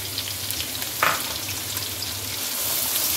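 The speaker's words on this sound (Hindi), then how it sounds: "और प्याज को हल्का सा फ्राई करें।" Onions frying in hot oil with toasted cumin seeds, a steady close sizzle and crackle with one brief louder stir near the start and a slight swell toward the end.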